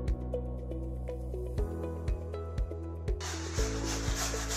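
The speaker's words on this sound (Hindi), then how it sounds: "तो फिर ये कद्दूकस क्यों कर रही हो गोभी को?" Cabbage rubbed against a grater in a home kitchen, a quiet rhythmic scraping with a stroke roughly every half second and a brief burst of brighter hiss near the end.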